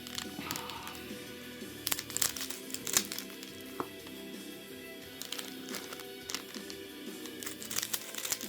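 Crinkly plastic wrappers on One Piece trading card packs rustle and crackle continuously as they are handled and torn open, with sharper crunching bursts scattered through and no talking.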